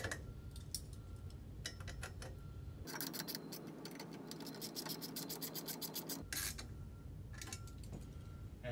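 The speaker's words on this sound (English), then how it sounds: "I'm using a socket wrench." A socket wrench ratchets as it tightens a nut on the pole of a flat TV ceiling mount with tilt and swivel, giving repeated close clicking and rasping bursts with a steadier grinding stretch in the middle.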